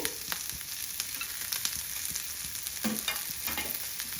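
Onions and curry leaves fry in a pan over medium heat for a spicy homemade mutton curry, giving a steady close hiss of sizzling oil broken by scattered scraping stir strokes, with no voices.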